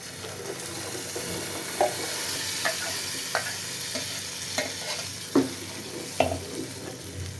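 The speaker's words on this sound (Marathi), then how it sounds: "फोडणी छान झाली आहे." Tempering sizzles steadily in a pan for an anchovy fry meal, with a spoon scraping and stirring through it in occasional sharp clicks, close and continuous with no speech.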